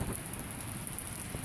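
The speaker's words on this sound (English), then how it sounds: "It's pouring" Heavy rain pours steadily at night in a park in Smiths Falls, a dense, even hiss of drops hitting surfaces, close and continuous with no voices.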